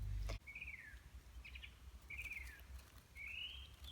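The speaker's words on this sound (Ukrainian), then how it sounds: "Так, пташки співають." Small birds sing in an early spring forest in March, with several short, bright chirping phrases repeating at a distance over a quiet, faint background.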